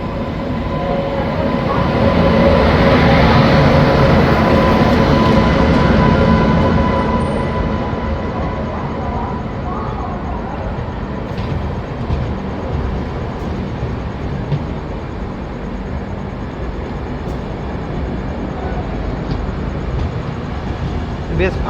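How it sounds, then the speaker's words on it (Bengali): The Puri Yoganagari Rishikesh Kalinga Utkal Express pulls in at platform 3, a loud sustained rumble of wheels and carriages that swells early and then settles into a steady rolling drone, with voices faint in the background. "3 নম্বর প্ল্যাটফর্মে এসে পৌঁছালো পুরী, যোগনগরী, ঋষিকেশ, কলিঙ্গ উৎকল এক্সপ্রেস"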